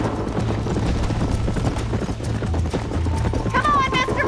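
Horse from Red Dead Redemption 2 galloping in rapid rhythmic hoofbeats under loud ongoing speech, with a brief whinny near the end over game sounds.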